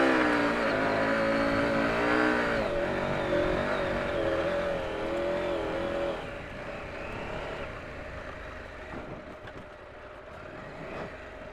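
KTM 790 Adventure motorcycle ploughing through soft, deep sand, a steady loud engine drone with wavering revs that drops lower and quieter partway through, then holds at a fainter even hum.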